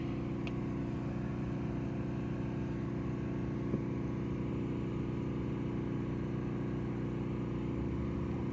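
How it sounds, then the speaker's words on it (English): Neighbours' generators running nearby during a power outage, a steady droning engine hum with constant low tones, unbroken throughout with a faint tick or two. "it's neighbor's generator here and another neighbor's generator down the way"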